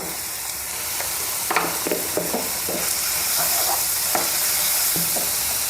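Onions, green chillies and garlic fry in a pan, a steady close sizzle punctuated by the scrape and clack of a spoon stirring every second or so, with no voices.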